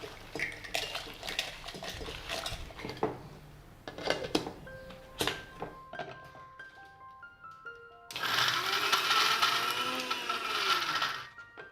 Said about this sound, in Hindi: अब इन पीसने वास्ते मिक्सी रो जार लिया हाँ।